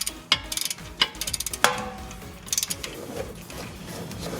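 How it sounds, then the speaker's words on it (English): A torque wrench tightens brake caliper bolts on a Dodge. Close, quick ratcheting strokes lead to a sharp click, followed by a few more light ratchet clicks, with no talking. "the torque wrench will click when we reach the torque"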